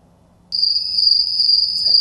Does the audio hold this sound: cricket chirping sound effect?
yes